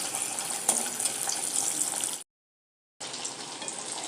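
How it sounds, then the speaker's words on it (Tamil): Pieces of taro root frying in hot oil give a steady close sizzle and hiss that cuts out briefly before resuming, with no voices. "இப்படி கொஞ்சம் கொஞ்சமாக போட்டு பொரித்து எடுத்துடலாம்"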